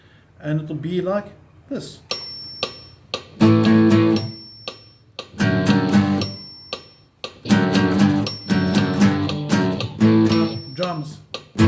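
A backing track's count-in of three bright ticks, then a song strummed on acoustic guitar in punchy chord bursts with the clicks continuing, while someone talks briefly at the start.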